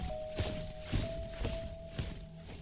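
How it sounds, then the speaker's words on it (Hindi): Soldiers' boots march in a steady rhythm of heavy thuds about twice a second, moderately close, over a faint steady tone and background hiss. "तभी उन्हें मार्च करते हुए सैनिकों के पैरों की आवाज आती है।"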